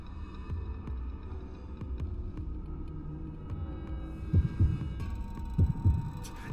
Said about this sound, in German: Immer halt dieser Herzschlag.